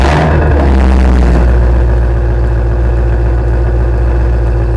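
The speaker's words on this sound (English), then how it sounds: "So this is the car with the valves closed on normal mode at idle." A Ford Mustang GT350 idles close by in normal mode with its exhaust valves closed, giving a loud, steady, deep burble after a short opening rev, with no talking.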